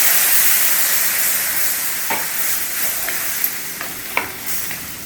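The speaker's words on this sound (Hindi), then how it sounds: "अब इसमें हम पानी डाल देंगे।" Water hits a hot pan of frying tomato and potato curry, giving a loud, steady rushing sizzle that fades slightly, with a few small pops and clinks near the end.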